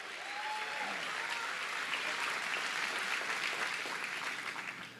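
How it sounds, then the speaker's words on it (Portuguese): Worshippers in a church break into a warm, full round of applause that swells after a brief start and carries on evenly, a dense crowd clapping with no distinct speech. "Você pode dar uma salva de palmas a Jesus?"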